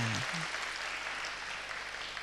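Audience clapping fills the space as steady, moderately loud applause, following a brief spoken word at the start.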